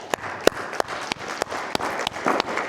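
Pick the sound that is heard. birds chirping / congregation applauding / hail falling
congregation applauding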